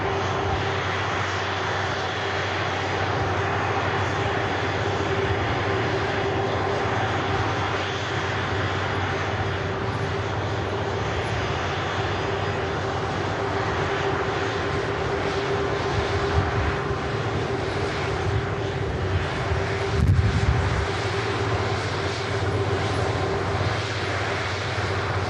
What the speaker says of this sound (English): Wonderful to see Air Transat bringing a 330 in today.